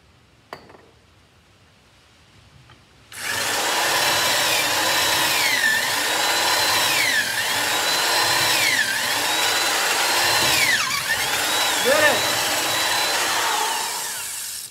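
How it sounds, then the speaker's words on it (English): A power drill without a reverse setting bores into lead ballast for a boat's centerboard pin, starting after a few quiet seconds and then running loudly and steadily with slight pitch dips as it bites. "And this power drill, it doesn't have a reverse feature"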